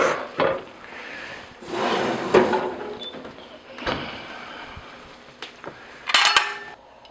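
A cooked pot of stuffed-vegetable food being moved from the oven onto the stovetop, with clanking metal, scraping and knocks of pans and cutlery at close range, spread through the stretch.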